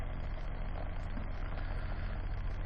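A homemade ZVS zero force motor running at high power, a steady rumbling, rattling hum from the shaking machine, close and continuous with no voices.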